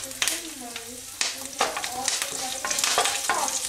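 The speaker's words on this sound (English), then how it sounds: "Now I'm going to add our chopped garlic pieces and curry leaves." Chopped garlic and curry leaves fry in hot oil, crackling close up with sharp bursts as they go in, then a rising, sputtering sizzle with stirring clatter.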